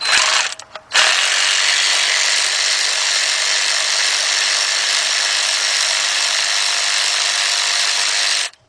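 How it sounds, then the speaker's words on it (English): Ratchet with a 10mm socket turning a thermostat housing bolt on a 2012 Dodge Durango SXT 3.6, a short stutter of clicks and then a loud, continuous buzzing run lasting several seconds before stopping abruptly, close up. "let's get our 10mm socket. Get our ratchet. I'm going to start off with the bottom one."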